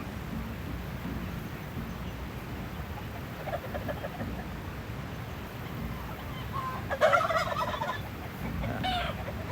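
Turkeys gobbling and chickens clucking on a biodynamic community farm in Ecuador, with scattered calls over steady outdoor background noise and a louder burst of gobbling near the end.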